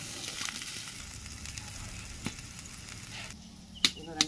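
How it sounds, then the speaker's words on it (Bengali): Spice masala of turmeric, chili, coriander and cumin with salt sizzles and fries steadily in a pan in a village kitchen, a constant hiss broken by a couple of sharp clinks near the end. "দেখুন মশলাটা ফুটে গেছে"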